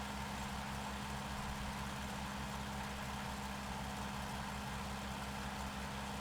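A Tiger Moth biplane's engine in Microsoft Flight Simulator drones steadily throughout, a continuous low rumbling hum with no breaks and no voices.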